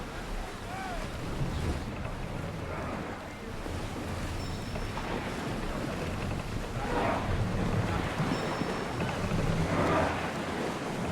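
Wooden sailing warship at sea in Assassin's Creed Odyssey, a steady wash of waves and wind rushing around the hull, with creaking and faint crew voices in the background throughout.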